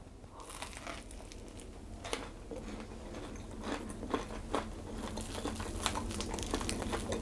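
Repeated crisp crunches and chewing as someone bites into a homemade Danish pastry, a crunchy shell with a soft middle, close and fairly quiet, bites scattered irregularly throughout.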